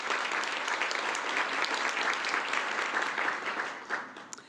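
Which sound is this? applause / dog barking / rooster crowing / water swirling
applause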